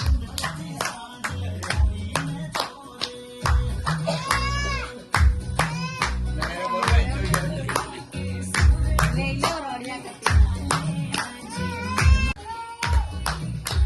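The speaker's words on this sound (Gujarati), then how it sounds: "તાળી પાડો." A group of children and adults claps along at a home devotional singing gathering, a steady rhythmic run of loud hand claps mixed with singing and chatter throughout.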